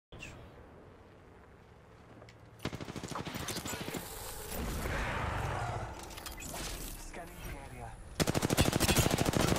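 Rapid automatic gunfire in the battle royale game Apex Legends: loud, dense bursts of shots crackle almost continuously, with a heavier volley near the end and players talking over the firing.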